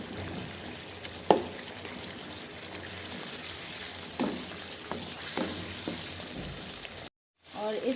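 Meat curry stir-fried bhuna style in an open, uncovered pan, giving a steady close sizzle and frying hiss with occasional scraping stirs, then a brief cut to silence near the end.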